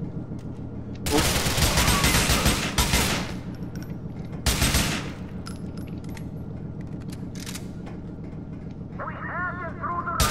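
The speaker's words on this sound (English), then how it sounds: "Let's start shooting, dude." Gunfire in Grand Theft Auto IV: dense bursts of automatic shots, loud and close, in two heavy flurries followed by sparser scattered shots, with talk and game sounds around them.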